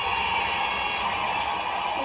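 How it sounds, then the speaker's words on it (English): A sustained electronic workout timer buzzer sounds loudly and steadily throughout a HIIT workout, with no pauses. "Breathe, ignore this buzzer."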